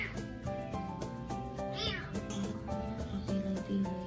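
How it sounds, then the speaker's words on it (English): A rescued homeless cat meows repeatedly over steady background music, the cries loud and close, rising and falling in pitch. "cat."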